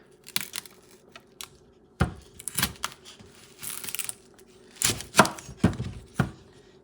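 Knife cutting through an unpeeled onion on a board, a series of crisp, close chops in irregular bursts separated by short quiet gaps.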